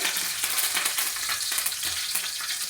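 Curry leaves frying in oil in a pan, the first step of a fried rice, give a steady, dense crackling sizzle that runs unbroken and close-up throughout, with no voices.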